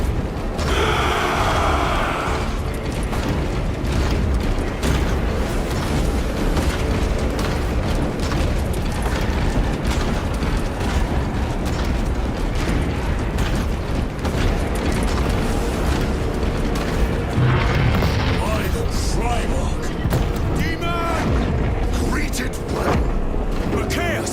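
Heavy battlefield combat in Warhammer 40,000: Space Marine 2 as forces open fire: dense, loud rapid gunfire with repeated booming explosions and mechanical clatter, all continuous, while voices shout orders over the din.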